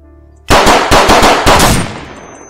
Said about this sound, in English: There you go, the sound came back for the gun.